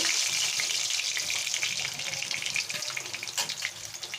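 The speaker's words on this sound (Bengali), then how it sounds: "একে একে সব মাছগুলো আমি এইভাবে ভেজে নিচ্ছি" Pabda fish fry in a pan of hot oil with a continuous close hiss and crackle, holding steady then breaking into lighter spitting pops.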